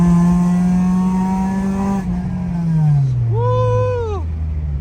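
An Acura Integra Type R engine, an RSX by the driver's account, revs hard under full-throttle acceleration during a late-night drive, its rising tone sweeping upward loud and close, with a brief tonal whine partway through.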